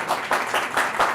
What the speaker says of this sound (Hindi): कितनी तालियां बज रही